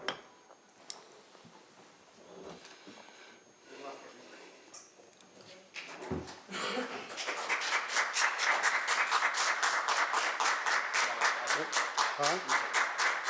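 Audience clapping at a county commissioners meeting, starting with scattered claps and murmurs and building into sustained, rhythmic applause from many hands that keeps going to the end.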